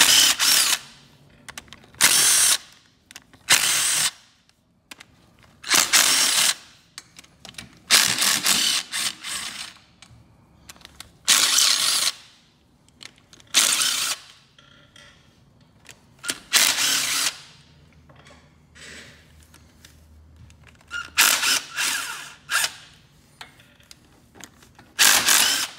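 Engine case bolts on an Arctic Cat 300 being loosened with a power tool, repeated loud, close bursts of high whirring and rattling separated by pauses, with no talking.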